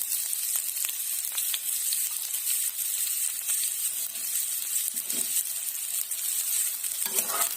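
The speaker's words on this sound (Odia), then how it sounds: "ପିଆଜ ଟିର ର ସ୍ମେଲ ଯିବା ପର୍ଯ୍ୟନ୍ତ ଆମେ ଏହାକୁ ଭାଜିବା।" Chopped onions fry in a pan for a crab curry, a steady close hiss of sizzling oil with occasional stirring scrapes and pops, continuous and unaccompanied by speech.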